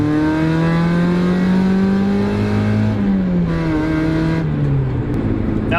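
Mazda Miata engine pulling hard through the revs from inside the car, a loud steady climb in pitch that drops at a gearshift and then rises again.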